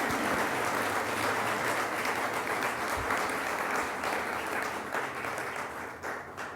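Sustained applause from an audience at the John Howard Association's 2024 annual event, a dense steady wash of many hands clapping that holds for several seconds and begins to thin toward the end.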